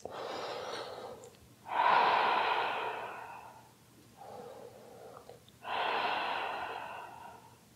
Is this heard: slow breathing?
yes